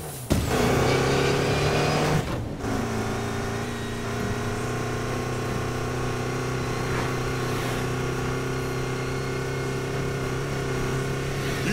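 A car engine racing in the Need for Speed Payback video game, a loud steady drone with shifting revs that drops briefly after a couple of seconds and then holds on.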